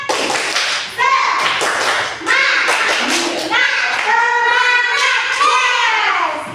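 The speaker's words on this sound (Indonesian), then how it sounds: "Mana tepuk semangatnya? Tepuk semangat." Schoolchildren in a classroom perform a rhythmic spirit clap, sharp patterned bursts of claps interleaved with children's chanting voices, loud and close.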